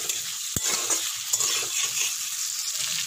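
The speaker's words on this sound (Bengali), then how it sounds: "একটু ভেজে নিচ্ছি, না হলে উচ্ছে যে তিতে ভাবটা ওটা থেকে যাবে।" Bitter gourd frying in a pan, a steady bright sizzle with one sharp knock of a utensil early on and a few soft stirring scrapes, close and moderately loud.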